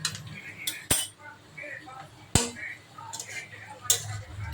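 Bitter gourd being cut in a home kitchen, with a few sharp knife knocks and clinks on a board, spaced apart, under nearby talking.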